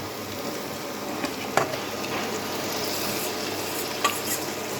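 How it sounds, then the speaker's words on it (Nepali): Spice-marinated chicken frying in a pan for chicken gravy, with a continuous sizzle and occasional scraping clicks of stirring, close and steady, no talking. "अब यो चिकनलाई चाहिँ हामीले यसमा फेरि फ्राई गर्न"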